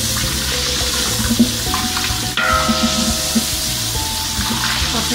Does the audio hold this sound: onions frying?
yes